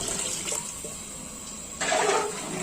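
A second vesselful of water is tipped into a pot of rice with masala, a sudden close gush starting after a quieter moment and continuing strongly, with no voices.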